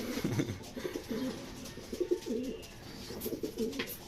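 Racing pigeons in a loft coo in repeated low, throaty bursts, several birds close by calling over one another in a soft, rhythmic murmur.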